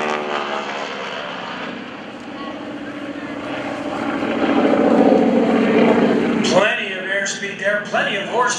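A 600-horsepower aerobatic propeller airplane roars through a half Cuban 8 turnaround at the 2015 Greenwood Lake airshow, its engine droning loud and steady, swelling midway, then cutting into choppier bursts as it rolls out, with an announcer talking over it.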